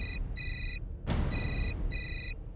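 An electronic telephone ring repeats in short bursts, three rings with a steady rhythm, over a low background hum and one brief whooshing swell.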